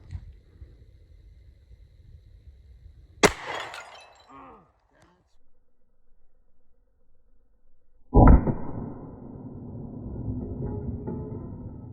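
Glock pistol fired into a porcelain toilet: a sharp crack early on, then a louder report with a crash of shattering porcelain and a lingering rattle of debris, set against quiet outdoor background.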